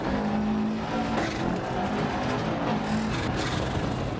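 A rally car in Dirt Rally 2.0 on a Wales stage, its engine roaring steadily as it accelerates hard out of a corner, loud and continuous with gravelly tire noise beneath.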